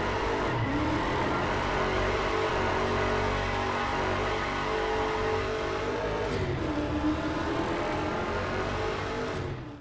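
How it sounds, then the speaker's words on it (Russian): Car engines from the Need for Speed Underground 2 remake built on Unreal Engine 4 drone loudly and steadily, rising and falling in pitch with revving, close and continuous throughout. "Звуки двигателя стали более изысканными."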